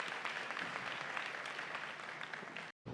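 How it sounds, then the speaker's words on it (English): A young audience at a United Nations-themed talk gives a brief burst of dense, steady clapping that cuts off sharply before a short pause and a little more noise. "let's begin with a round of applause for yourselves for being here"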